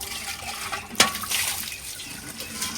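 Water runs from a home tap in a steady, moderate splashing flow with a brief sharp clatter early on, close by and without clear talk.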